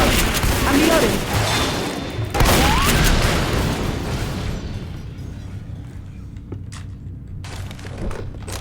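Heavy gunfire in Left 4 Dead 2 rattles as a dense, loud barrage of overlapping shots and blasts, then thins into scattered pops and trailing noise, with voices calling out over the shooting.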